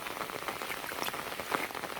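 Rain falls steadily on a surface during a thunderstorm in rural fields, a dense, soft patter of drops that stays constant and fairly faint throughout.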